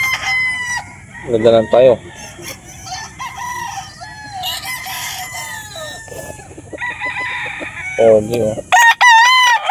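Young gamefowl stags crow loudly and repeatedly at a gamefarm, several full crows sounding close by with others further off, while someone speaks briefly between them.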